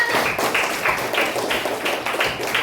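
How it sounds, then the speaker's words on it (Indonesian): Classroom hands clap in a steady rhythmic pattern, about three claps per second, moderately loud and close, with no voices over them. "Tepuk tangan kita semua"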